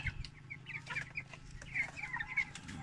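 Broiler chickens in a farm pen cluck repeatedly, a busy flock of close, overlapping short calls with quick rhythmic bursts throughout and no talking.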